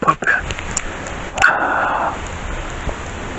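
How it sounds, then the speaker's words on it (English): A puppy gives a few short yips and whimpers close by, heard over a steady background hiss. "Having a puppy on my lap"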